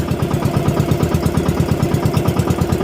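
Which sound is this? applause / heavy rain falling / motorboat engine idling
motorboat engine idling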